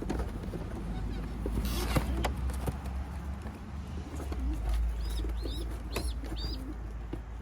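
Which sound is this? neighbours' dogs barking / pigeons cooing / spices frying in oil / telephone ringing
pigeons cooing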